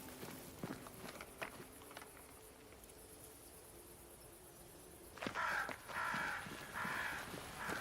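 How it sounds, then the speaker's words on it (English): Crows cawing in a video game, scattered harsh calls over soft footsteps and faint insect chirring, with louder overlapping caws near the end. "Crows. They flock to that great tree up there."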